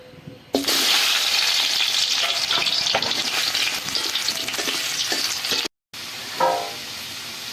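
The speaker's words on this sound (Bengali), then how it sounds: "আলুগুলো ভাজা হয়ে গেছে আলুগুলোকে তুলে নিচ্ছি" Potatoes frying in oil in a wok produce a loud, steady close sizzle with stirring scrapes; it cuts out briefly near the end, then resumes more quietly with a few clanks, no speech.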